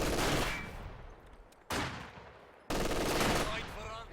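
Sniper rifle shots fired at a garrison in a strategy video game, three sharp, loud cracks spaced about a second apart, each decaying into a long echoing tail.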